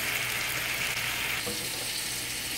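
Potatoes sizzle and crackle steadily in a hot pan, a constant frying hiss without pause.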